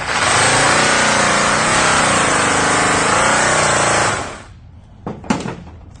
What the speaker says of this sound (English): So I'm going to rake it again, really rolling it to get my edges until I get it completely raked.